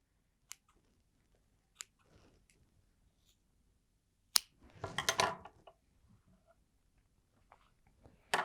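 Scissors cut through folded paper for a recyclable feather wall hanging craft, giving a short burst of crisp snipping after a few light isolated clicks, close and alone with no talking.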